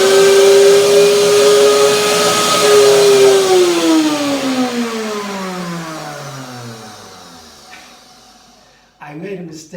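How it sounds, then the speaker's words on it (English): A blender whirs loudly through bananas, dates and cashew nuts, its motor pitch dropping as the load thickens, then fading and stopping before a short clatter at the end. "So I blend it first now, and then I put the coconut oil in, because that's easier."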